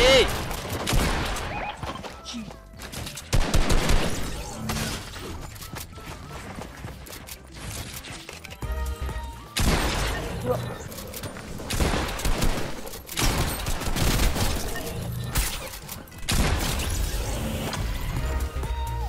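Fortnite gunfire from a FAMAS rifle and an SMG, dense rapid bursts and clattering shots in loud waves with brief lulls, mixed with excited talking.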